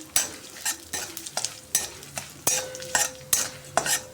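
White sesame seeds and chili flakes sautéing in a little oil, with a soft sizzle broken by regular scraping stirs of a utensil against the pan, close up and without any voices.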